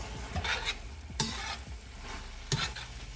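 Noodles and vegetables hiss and sizzle in a hot pan, with a few sharp tossing scrapes and clatters breaking through the steady frying.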